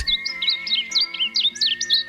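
Varied bunting singing near Tucson, a rapid run of bright, slurred warbled phrases repeated over and over, close and clear above a steady high background tone, with no talking.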